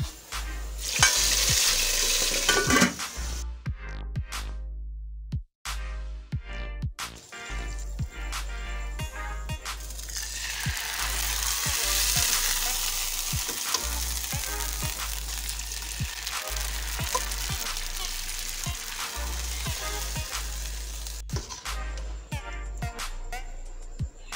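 Loud, steady sizzling and crackling as hot spiced oil tempering hits kadhi pakora curry, with occasional clinks of a utensil stirring; no talking.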